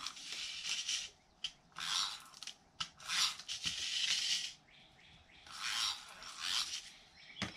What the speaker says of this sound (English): take my tape runner, add some tape along the edges,